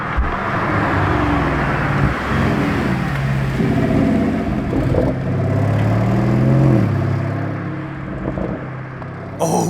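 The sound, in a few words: Lamborghini test car engine revving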